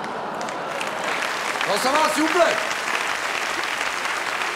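An audience claps steadily through a stage-show parody, a dense wash of applause while someone speaks over it.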